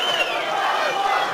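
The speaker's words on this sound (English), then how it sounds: "the crowd's going crazy" Boxing fight crowd cheering and shouting, a dense roar of voices with rising whoops, loud and sustained throughout the short moment.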